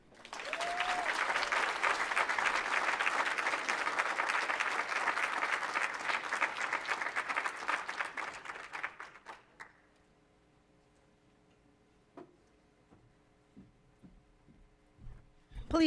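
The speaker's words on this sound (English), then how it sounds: "Please can keep the applause going for Robin, please." Audience applause after a poetry performance at a Black celebratory event fills the room loudly and steadily for several seconds, then fades out into near silence broken by a few scattered claps and small noises.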